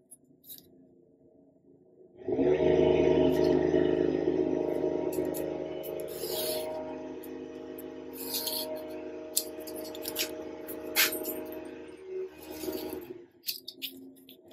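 Paper trimmed for a Graphic 45 scrapbook mini album, a steady close scraping cut lasting several seconds, then lighter scratchy handling sounds and small clicks.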